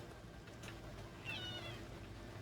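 A cat meows once in the video game Tainted Grail, a short mid-pitched call over a steady game background hum, fairly close.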